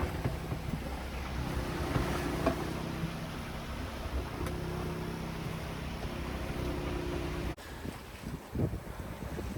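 A passing squall blows across a sailboat at sea, steady buffeting wind noise with gusty rises, then a sudden drop and rougher swirls near the end; no talking.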